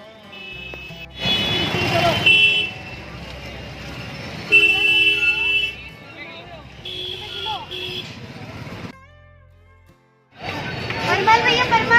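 Busy Delhi street traffic, with repeated car horns honking in bursts over a rumble of engines and passing vehicles, one brief quiet lull near the end, and people talking throughout.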